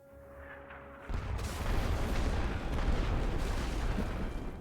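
Massed artillery barrage pounding trenches on a Great War Western Front battlefield, a sudden onset of dense, continuous rumbling explosions that roll on loudly after a brief quieter lead-in.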